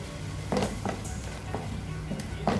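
Egg roast masala topped with ground cumin sizzles in oil while a spoon stirs it, giving several brief scraping strokes over a soft, constant frying hiss.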